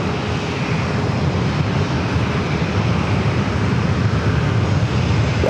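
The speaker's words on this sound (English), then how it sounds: "Got our next arrival, the American A321 coming in from Phoenix" An American Airlines Airbus A321 arriving at San Diego from Phoenix gives a continuous, fairly loud engine rumble and hiss, steady throughout with no talk.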